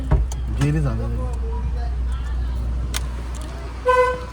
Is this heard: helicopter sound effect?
no